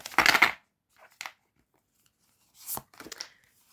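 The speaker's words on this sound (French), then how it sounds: "on mélange les cartes, même si je les ai déjà pré-mélangées" Tarot cards being shuffled by hand in quick papery bursts, a longer riffle at the start and then shorter flicks and rustles with pauses between them, close and alone.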